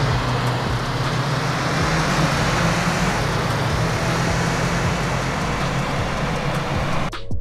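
Steady road roar from cars driving in the DRIVE.RS open-world racing game, a continuous loud engine-and-tyre drone with no breaks, cutting off abruptly at the end.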